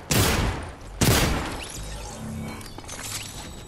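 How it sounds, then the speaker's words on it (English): Two heavy shotgun blasts from a video game ring out close and loud about a second apart, each decaying into a short reverberant tail. "You only have one shotgun shell left."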